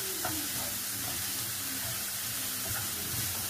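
Small chopped mushroom pieces fry in a pan for an Italian baked stuffed pasta. There is a steady, close sizzle with faint stirring scrapes throughout.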